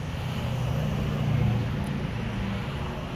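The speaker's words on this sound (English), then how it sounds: "can you hear the traffic?" Steady road traffic hums nearby while waiting for a bus, a continuous low engine drone with no distinct passes and no talk over it.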